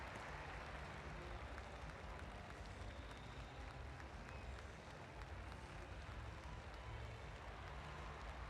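A large stadium crowd at the London 2012 Paralympic Games athletics cheers and claps for Gemma Prescott at the club throw, a steady distant roar of applause with no voice above it.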